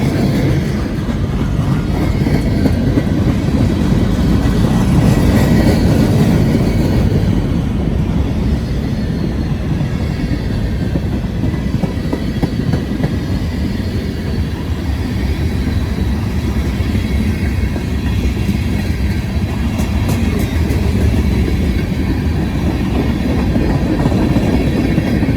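A long freight train hauled by six locomotives, including a cabless slug and two Union Pacific distributed power units, rumbles past on the rails with steady loud low roar and clickety-clack throughout, no talk.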